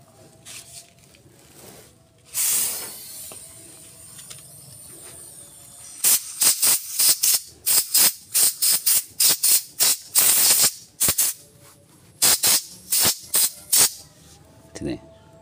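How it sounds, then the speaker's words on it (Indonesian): Compressed air sprays in repeated short bursts to clean a needle part from a Mitsubishi L300 engine, loud and fairly close, with a longer blast early on followed by a rapid series of hisses. "Tuh, bisa kita semprot pakai angin sobat ya. Semprot aja dan sini dan semprotin aja."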